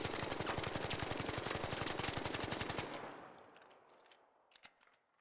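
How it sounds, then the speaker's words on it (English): Stitcher gun in ARC Raiders emptying a full magazine, a rapid, even stream of loud automatic shots for about three seconds, then an abrupt stop and a trailing echo with a few faint clicks. "So let's do the mag dump and check it out."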